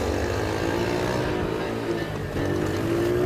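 A car engine runs steadily at Bonneville during a land speed record attempt, a continuous droning hum with a steady tone that holds throughout, fairly loud and close, with no talk over it.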